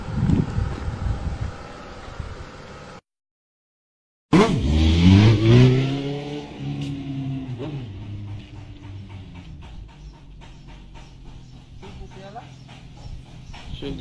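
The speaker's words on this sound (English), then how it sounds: "Fourth gear takeoff, nasty burnout." A motorcycle does a fourth-gear takeoff with a nasty burnout at a street stunt scene, its engine revving loud and close with a rising pitch sweep, then fading into steady rumble and crowd noise, with voices around it.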